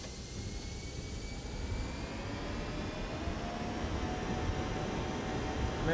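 Airbus A321 jet engines spooling at TOGA takeoff thrust in the X-Plane 11 flight simulator, a loud, steady roar and whine with a faint rising tone, holding without a break.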